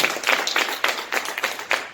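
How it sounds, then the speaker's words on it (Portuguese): A short burst of scattered hand clapping from several people, uneven and fairly close, with a faint voice underneath. "Você pode dar uma salva de palmas ao Senhor, glorificando o nome dEle."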